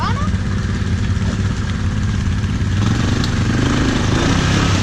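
Polaris four-wheeler ATV engine running steadily with a low droning rumble, close and continuous, while people talk over it outdoors.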